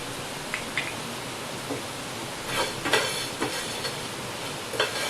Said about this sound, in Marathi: मोठी वेलची छोटी वेलची हे सगळं एकत्र आपण भाजून घेणार आहे